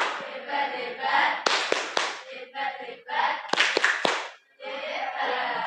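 Middle-school students in a classroom give a rhythmic group "tepuk hebat" clap, loud bursts of hand claps in short patterned sets with brief pauses, voices chanting along between the claps.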